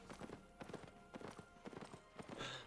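Horse mount hooves in the video game Albion Online, a quick run of soft clip-clop footfalls under game sounds and music, fairly faint throughout with a sharper hit at the very end.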